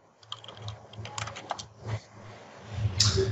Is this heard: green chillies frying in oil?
no